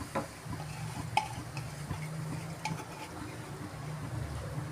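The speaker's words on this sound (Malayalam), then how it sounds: "നമുക്കിതിനകത്തോട്ട് ഒതുക്കി വെച്ച കൈകൊണ്ട് തിരുമ്മി വെച്ച ചീര ഇട്ട് കൊടുക്കാം." Hand-rubbed spinach going into a pan for a prawn and spinach thoran, stirred over low steady sizzling with a few soft scrapes and clicks, close and fairly quiet throughout.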